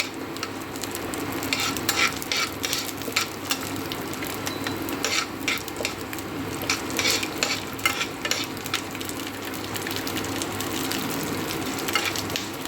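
Garlic fries in hot oil for an Indian gooseberry chammanthi and is stirred the whole time, making a steady, close sizzle broken by repeated sharp scrapes and clicks of the spoon against the pan.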